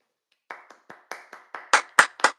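A short run of about eight hand claps, brisk and fairly evenly spaced, growing louder toward the end, close by in a casual chat setting with no talk over it.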